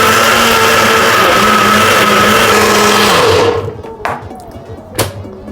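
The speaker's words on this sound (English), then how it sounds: "You just blend this for 1 minute. I put it in the NutriBullet." A loud, steady NutriBullet blender whirs continuously for several seconds blending a watermelon banana smoothie, then cuts off abruptly, followed by a couple of quiet knocks.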